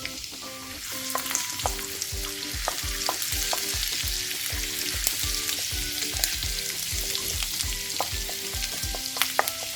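Finely chopped ginger frying in a pan, a continuous close sizzle overlaid by a regular rhythm of scraping stirring strokes and occasional light taps, with no talking.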